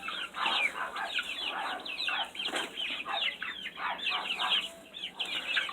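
Many chickens on a chicken farm cluck and chatter at once, a dense overlapping flock sound at moderate distance that continues throughout with no talking.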